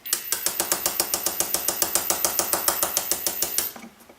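Foredom hammer handpiece tapping a bezel down over a set stone, a fast, even train of about two dozen sharp metallic clicks that stops abruptly near the end.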